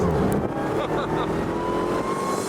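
A loud supercharged car engine runs steadily, with a thin high-pitched supercharger whine rising faintly above the roar and a voice speaking underneath.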